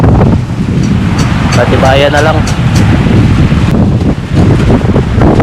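Strong wind roars and buffets the microphone continuously, with a brief spoken phrase partly buried under the gusts.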